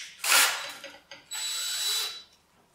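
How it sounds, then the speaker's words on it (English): A power drill boring into the bushings of a control arm on a Tri 5 Chevy, two close, loud whirring bursts, a short one and then a longer steady run, with a brief pause between. "Let's give these bushings a little bit of a drilling just to loosen things up more"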